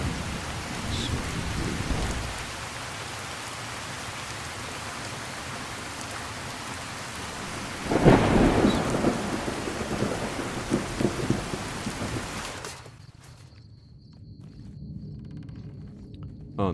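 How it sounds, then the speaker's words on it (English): Steady rain and rolling thunder in a storm in the video game Fallout New Vegas; continuous rainfall hiss with a loud thunder crack near the middle, then the storm cuts away to a quieter game ambience. "It's starting to storm, which is not good."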